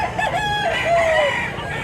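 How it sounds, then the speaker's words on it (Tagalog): A rooster crows and chickens cluck at a busy weekly poultry market in Mantalungon, Cebu. One clear, drawn-out crow rises over a steady background of clucking birds, with no talk. "Daming manok dito."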